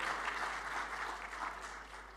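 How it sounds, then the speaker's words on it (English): Applause from a conference audience at an international social impact assessment meeting, many hands clapping in a steady, moderately distant wash that eases off slightly, over a constant low hum. "please give a big round of applause to our Dirjen here"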